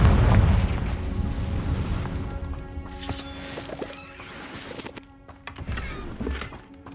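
A Confringo explosion spell cast in Hogwarts Legacy on PS5 opens with a deep booming blast, then a rumbling tail decays under layered game effects and a sustained musical tone.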